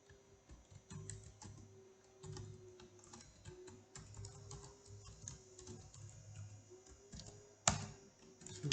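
Keystrokes on a computer keyboard while a login banner message is typed into a Junos network device, steady close clicking in irregular bursts with a sharper clack near the end, no talking.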